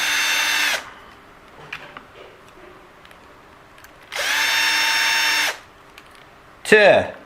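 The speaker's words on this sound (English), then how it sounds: "let's get these screws out" Two long whirring bursts from a power drill back out screws on an Eachine EAT11 drone, with quiet handling clicks between them and a brief high squeal at the end.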